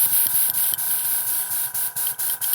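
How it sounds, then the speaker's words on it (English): Airbrush spraying paint onto model shipping containers for a tabletop wargaming board, a steady close airy hiss broken by brief pauses and short bursts as the trigger is released and pressed again. "I filled 1 airbrush with my dark colors and a second airbrush with my light colors"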